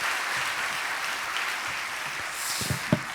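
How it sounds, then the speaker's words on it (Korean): A church congregation at a dedication service claps together in praise, a steady, fairly loud wash of applause that holds throughout with a few sharper claps near the end. "우리 박수로 하나님께 영광 돌리겠습니다."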